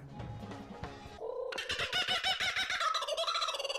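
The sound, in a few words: bird cooing in a meme video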